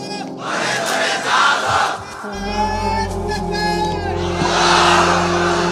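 A large crowd at an Islamic religious gathering roars the chant Lillahi Takbir in loud, sustained collective shouts, rising and falling, with a low steady hum beneath.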